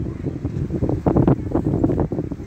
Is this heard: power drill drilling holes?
no